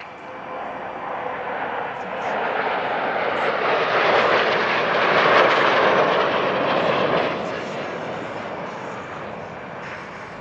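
Display team jets at an airshow splitting into five-ship and three-ship elements, a broad roar that swells as they pass overhead, peaks midway, then fades, with a distant voice beneath.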